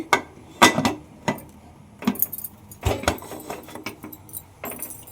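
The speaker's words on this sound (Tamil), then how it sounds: "இதை மூடி போட்டு" Metal clanks and clatters in a few sharp knocks as a lid is set down on a pressure cooker of simmering turkey berry curry, then lighter rattles of kitchen metal follow.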